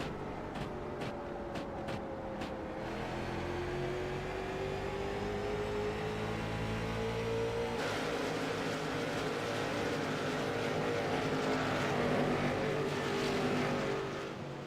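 Stock cars race around the Myrtle Beach oval in the Shriners Hospitals for Children 150, a steady loud roar of many engines that shifts in pitch as the field laps, sustained for the whole stretch with no voices.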